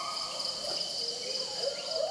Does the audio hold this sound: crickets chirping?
yes